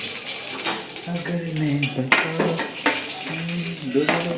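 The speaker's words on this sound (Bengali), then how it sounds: "দেখো এই যে ভাজা স্টার্ট করে দিয়েছে" Food fries in a pan at home with a soft sizzle, punctuated by clinks and scrapes of utensils against the cookware, while someone talks nearby.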